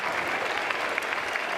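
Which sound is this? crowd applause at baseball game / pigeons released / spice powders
crowd applause at baseball game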